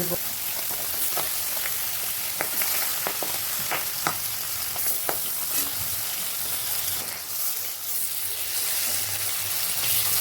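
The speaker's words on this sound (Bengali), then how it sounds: "আগে মাছটা ভেজে নিই।" Chara pona fish frying in hot oil, a continuous close crackling sizzle with sharp spitting pops scattered through it, no talk.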